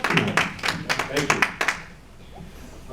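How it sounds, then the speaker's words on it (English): A church audience claps for a guest speaker, a burst of close, uneven hand claps lasting under two seconds before fading into quiet room tone. "let's all give a nice round of applause tonight for Jeffrey Dale Wapp."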